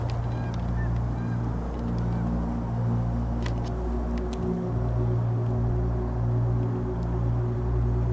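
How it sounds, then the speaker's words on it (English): A large flock of geese at a pond at Pond Mills honks in repeated, overlapping calls against a constant low outdoor rumble. The birds are moderately close. "There's the geese."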